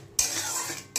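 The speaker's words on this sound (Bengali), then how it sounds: "ভালো করে মশলাটা কষাতে হবে যতক্ষণ না মশলা থেকে তেল" Spice masala for a light-oil fish curry being stirred and fried in a pan, a brief burst of sizzling with a metal spoon scraping across the pan, close and short.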